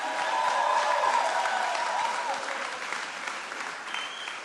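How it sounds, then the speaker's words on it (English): A church audience applauds steadily for a few seconds, a dense wash of clapping that thins slightly toward the end. "Let's give them both another clap."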